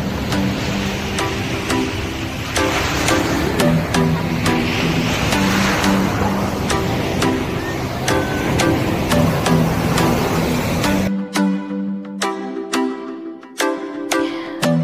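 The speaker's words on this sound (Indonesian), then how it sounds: "Ombaknya hari ini lumayan gede ya teman-teman." Big ocean waves break and wash up on a beach, a loud continuous roar with sharp crackling bits. The sound cuts to a quieter wash with scattered clicks near the end.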